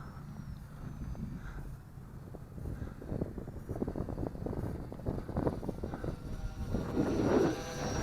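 An XK X520 brushless VTOL RC airplane flies in gusty wind, its faint high motor whine drifting over steady wind rumble on the microphone that grows louder near the end.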